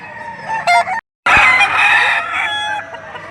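Several roosters crow loudly and close by, their calls overlapping, with brief clucking and one abrupt gap of silence partway through.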